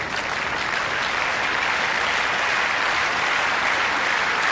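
Tennis crowd at a Rome semifinal giving sustained, loud applause, an even wash of clapping that holds steady throughout with no voices above it.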